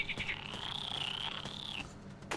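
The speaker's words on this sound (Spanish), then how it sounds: "Dios, ranas, tengo que verlo." Frogs croak in a video game: a steady, shrill, warbling call holds for nearly two seconds over soft background ambience, then cuts off abruptly.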